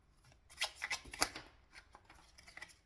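Tarot cards being shuffled by hand, a run of crisp papery riffles and snaps with a few sharper slaps in the middle, close and fairly quiet.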